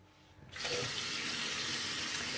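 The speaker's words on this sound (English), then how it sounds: "I'm going to rinse it a couple times" Tap water switching on and running steadily into a sink while exfoliant is rinsed from the skin, a soft close rush that starts after a brief quiet moment and carries on alone.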